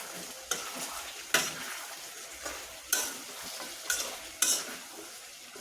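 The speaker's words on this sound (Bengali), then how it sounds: "দিয়ে ভালোভাবে এটা আমি নাড়াচাড়া করে নিব" Spice paste being stirred in a frying pan while cooking chicken, with soft sizzling under five or six distinct scraping strokes at an unhurried rhythm.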